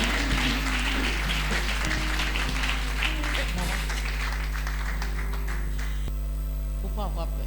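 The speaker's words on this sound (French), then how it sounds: "Lève-toi et acclame Jésus" A congregation at a French-language church service claps together in sustained, dense applause over a low steady hum, with voices sounding through it.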